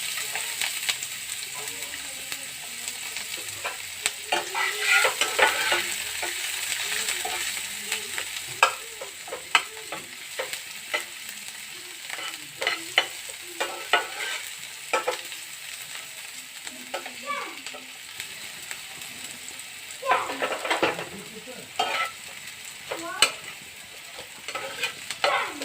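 Chopped onion frying in a pan after cumin, a steady close sizzle broken by repeated scraping stirs with a spatula, the clatter coming in irregular bursts for almost the whole stretch.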